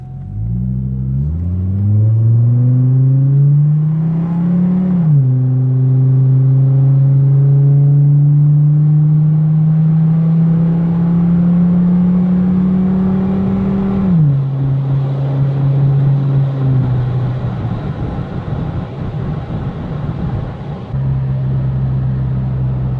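A 2005 Chevy Colorado Z71 3.5-liter five-cylinder with a Flowmaster Super 10 exhaust revs up from idle, holds a loud steady drone, then drops back and rises again, heard up close with no talking.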